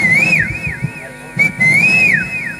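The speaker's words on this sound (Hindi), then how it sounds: "कॉलोनी की सीटी बजाई।" A colony whistle blown in a comedy stage skit, sounding as several rising and falling shrill trills that repeat close and loud over a busy, noisy background.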